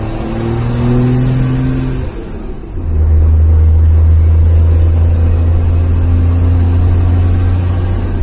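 A Cummins diesel Sweptline pickup with a turbo that isn't building boost: a loud, close engine drone that dips briefly, then climbs into a heavy, sustained rev as the truck accelerates.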